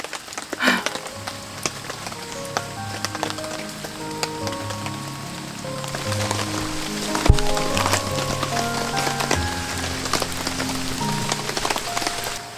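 Rain falling on and around a small car during camping, a constant pattering with occasional louder drops, heard from inside and without talk.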